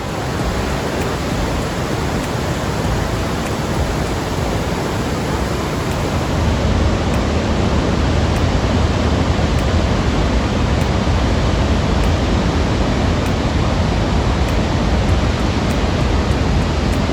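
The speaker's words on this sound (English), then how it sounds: "The Montmorency waterfalls are 84 meters tall, which is even higher than Niagara Falls" Montmorency Falls in Quebec, an 84-metre waterfall, thundering in a loud, unbroken broadband roar of falling water.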